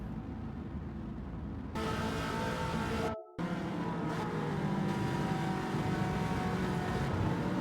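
Race cars in Gran Turismo 7, in a Nations Cup race at the Deep Forest circuit, roar steadily at close range as engines drone continuously, with a brief cutout midway before the pack's engine noise resumes at full strength.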